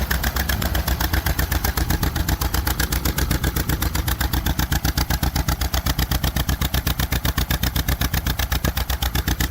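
A John Deere MV tractor engine runs slightly rich, chugging in a fast, steady, even beat that is loud and close throughout, with no talk over it.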